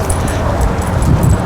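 An active dog whimpers and yips in short high bursts over heavy outdoor noise and wind rumble, fairly close and continuous.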